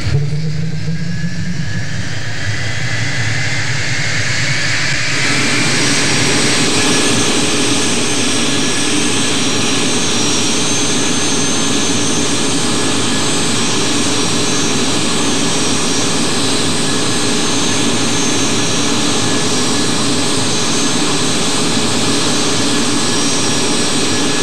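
A jet aircraft engine spools up from a rising whine into a loud, steady roar that holds for over twenty seconds, close and continuous with no talking, on a parked airplane about to deploy its spoilers.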